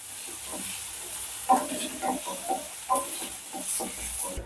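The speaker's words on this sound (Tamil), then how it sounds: "கொஞ்ச நேரம் நல்லா வதங்கட்டும்" Steady sizzling of onions and curry leaves sautéing in hot oil for bottle gourd kootu, with occasional stirring scrapes and clinks, close and continuous.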